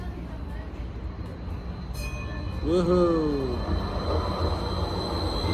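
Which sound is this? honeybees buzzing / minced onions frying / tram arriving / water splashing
tram arriving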